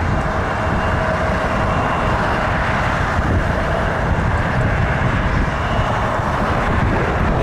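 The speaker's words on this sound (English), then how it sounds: "we got a Embraer 175 Jazz lining up" A Jazz Embraer 175 jet lines up on an airport runway, heard as a steady broad engine roar with wind rumble, distant and continuous, with no talk.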